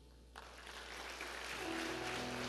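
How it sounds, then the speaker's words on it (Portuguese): Applause from a church congregation breaks out and builds steadily, a dense wash of clapping with a sustained tone creeping in beneath it. "Aplauda Jesus."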